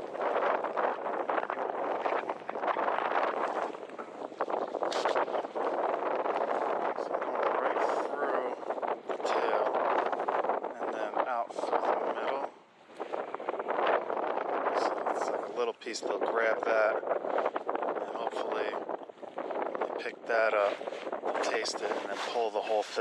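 Strong wind buffets the microphone on a fishing boat out for fall blackfish and sea bass, a continuous loud roaring rumble with gusty surges over about twenty seconds, and someone talks through much of it.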